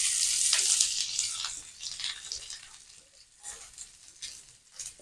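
Onion is frying in a little oil on a griddle, giving a light hiss that is strongest at the start and then eases into softer, uneven crackles and spatters. No one speaks.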